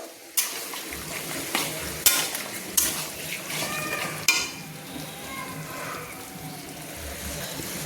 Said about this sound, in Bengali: দেখুন খুন্তি দিয়ে ভালো করে আমি মাখিয়ে নিয়েছি।